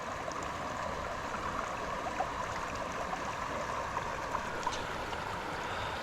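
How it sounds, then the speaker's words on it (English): River water rushes steadily and evenly beside a kayak in an outdoor spot, a continuous broadband wash with no talk over it. "It's so peaceful sitting here listening to the sound of the rushing water."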